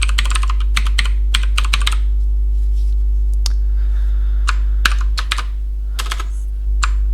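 Computer keyboard typing while writing TeX code, bursts of quick clicking keystrokes separated by pauses, close and crisp over a steady low electrical hum, with no talking.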